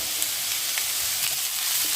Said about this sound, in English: fry the onions and the garlic and mix it in with the pork